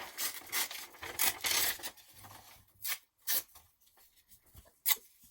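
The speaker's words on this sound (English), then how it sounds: "the sound of tearing fabric" Cloth being ripped in several short, raspy bursts, close and fairly quiet, with brief pauses between tears.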